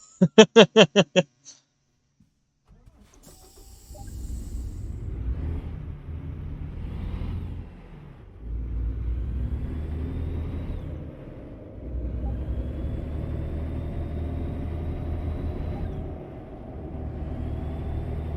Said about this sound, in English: this truck got up to speed a lot faster than the DAF